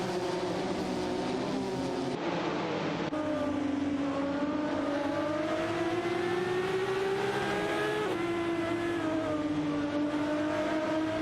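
Racing cars in an AI racing video game, a continuous high engine whine that climbs and shifts pitch steadily as cars speed along, loud and sustained with no pauses.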